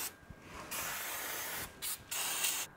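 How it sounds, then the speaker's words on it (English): Several bursts of hissing spray from an aerosol can of degreaser onto the engine of an R34 Nissan Skyline, one long blast followed by shorter spurts with brief pauses between. "Give everything a spray down with degreaser"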